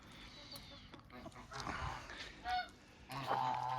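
Several geese honk in bursts from nearby, with a shuffling background and a brief faint voice mixed in.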